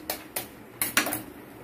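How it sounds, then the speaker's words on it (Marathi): Eggs being cracked in a home kitchen while an omelette is made: four or five sharp, close taps in quick succession against a quiet background. "अंडी फोडतोय"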